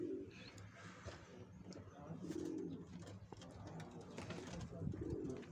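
Soft, low cooing of tumbler pigeons in a loft in repeated rolling phrases, fairly close, with faint chirps and rustling in an otherwise quiet space.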